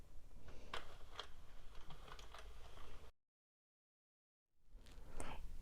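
A Sentro or Addi knitting machine cranks out rows of blue yarn, a steady faint ticking and clicking of the mechanism up close that cuts out to silence and then resumes.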